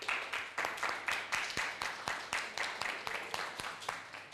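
Applause at a sports gathering, a small group clapping in a fairly even rhythm of sharp, distinct claps, moderately close and without talk.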